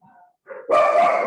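A dog barks indoors during an online panel meeting: a brief faint whimper, then a short yip, then one loud, close bark that rings out and fills the rest of the moment.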